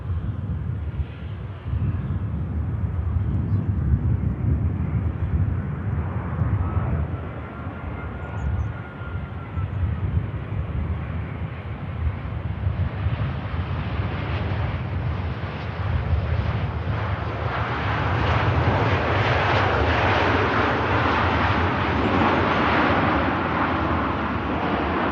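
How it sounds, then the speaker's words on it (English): A Qatar Airways Airbus A350 lands at Manchester Airport in rainy weather, its engine roar swelling and shifting as it nears touchdown, with some wind buffeting on the microphone and no talk. "Beautiful Qatar 350 next to touchdown."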